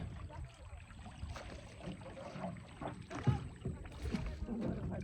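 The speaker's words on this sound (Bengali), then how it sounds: "আমাদের নৌকা চলতেছে।" A boat moving through the open water of a wetland in Magura gives faint, soft water swishes and low rumbling movement, with light wind in the background and no clear talking.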